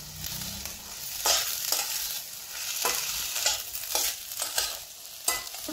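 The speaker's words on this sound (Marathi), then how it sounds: "आता मी हरभरे परतायला चालू करते" Chickpeas fry in a pan over low gas, a constant close sizzle broken by regular scraping strokes of a spoon stirring them around every second or so.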